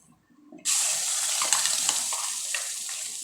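Masala sautéing in a pan for paneer butter masala, a steady close sizzle that starts abruptly and continues with light stirring scrapes.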